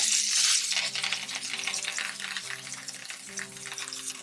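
Shallots, garlic and fresh thyme hitting a pan with a New York striploin steak, giving a dense close sizzle that starts loud and settles into a steady crackling fry, with no voices.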